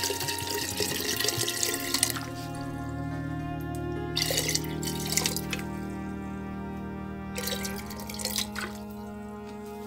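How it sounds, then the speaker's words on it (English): Half a liter of acid solution for reacting silver-plated pins is poured into a container, close trickling and splashing liquid in a few bursts over a low steady hum, without any speech. "right now we will add a half a liter of new acid."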